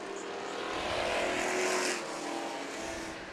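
Street stock race cars roar around the oval at Meridian Speedway, a dense, continuous engine drone that swells toward the middle as the pack passes close, then eases back slightly.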